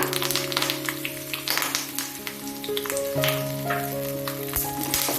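Curry leaves and two dried red chillies sizzle steadily in a pan over a medium-low flame while being sautéed for a dates pickle, with faint stirring crackles and sustained musical tones in the background.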